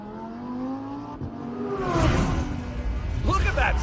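A Lamborghini Huracán race car with a V10 screams past in an anime race, its engine note rising then swelling into a loud rushing pass, followed by a sharp squeal like skidding tires; an excited voice commentates over it.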